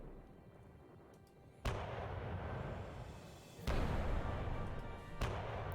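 Naval guns of the cruiser Baltimore firing in the war game Hell To Pay, Kyushu assault of 1945: three heavy booms spaced a couple of seconds apart, each followed by a sustained rumbling roar.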